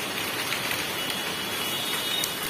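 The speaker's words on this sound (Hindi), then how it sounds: "अभी लिटरली काफी तेज बारिश आ चुकी है" Heavy rain pours at night in a steady, loud wash of dense hiss that continues unbroken, with no voices over it.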